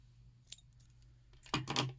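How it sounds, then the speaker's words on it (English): Scissors snip through crochet yarn near the end of a modified granny square, a single close crisp cut with a faint click just before it, over a quiet room. "I'm going to cut off about 3 inches or so."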